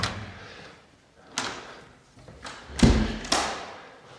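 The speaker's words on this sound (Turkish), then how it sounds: "Ben de kapıyı açıyorum." A door in a villa in Didim is opened, giving a few soft thuds and knocks, with a louder clunk and bump near the end, heard close up with no talking.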